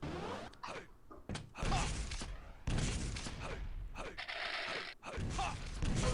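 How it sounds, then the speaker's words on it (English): Rockets are fired and explode in a fast-paced first-person shooter duel, heard as a quick run of loud, abrupt blasts and bangs with short gaps between them. "Gotta be careful with those rockets."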